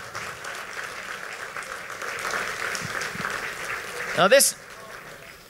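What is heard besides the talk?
applause for award nominees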